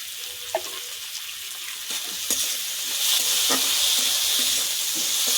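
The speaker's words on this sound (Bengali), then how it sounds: "তো আলুটা ভাজা ভাজা করি" Steady hissing sizzle of potatoes frying in oil, with occasional clinks and scrapes of stirring; no voices.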